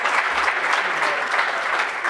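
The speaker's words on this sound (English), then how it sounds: "I'd like you to give the working group, our attorneys, a round of applause as well" Sustained applause from a conference audience at closing remarks, dense, even clapping from many hands filling the whole short stretch, with faint voices underneath.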